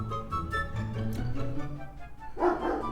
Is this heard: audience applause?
no